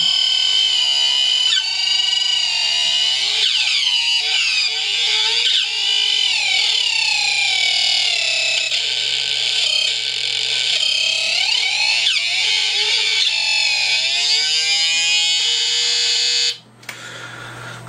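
A homemade punk console noise synthesizer screeches loud and shrill, its harsh oscillating tones warbling and sweeping as the modulation knobs turn, cutting off abruptly near the end.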